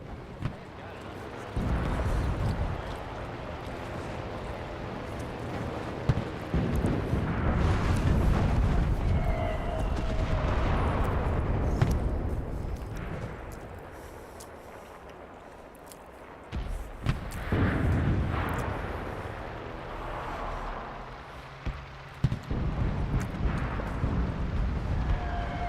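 Artillery explosions in the World War II shooter Enlisted, booming blasts and rumbling impacts spread across a noisy battlefield with bursts and lulls, voices shouting now and then.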